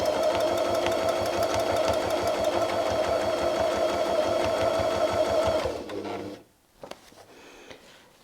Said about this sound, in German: wir quilten einmal diese nachgezeichnete Linie nach.